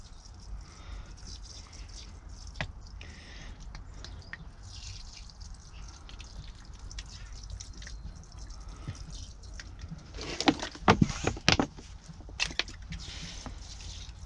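Tap water splashes and drips onto wet seeds being watered in a greenhouse, faint trickling with a brief louder burst of splashing near the end, quiet and close.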